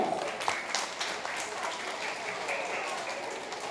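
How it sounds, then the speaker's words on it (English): Audience applause for poem recitation contestants at a school contest, a steady wash of clapping at moderate level lasting throughout, somewhat distant, with faint voices mixed in. "Let us give them a round of applause."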